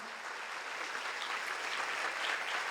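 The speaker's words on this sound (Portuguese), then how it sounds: "Aplauda o Senhor Jesus, meu irmão." A church congregation applauds during a Portuguese-language worship service, a continuous, even roar of many hands clapping that holds steady and swells slightly near the end.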